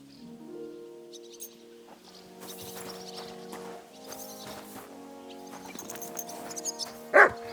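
A dog in the video game Kingdom Come: Deliverance II whines and yips softly, building to a sharper, louder bark near the end, with faint in-game sounds around it.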